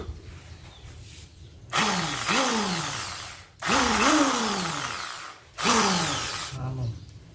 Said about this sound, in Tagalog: Testing natin tong drill.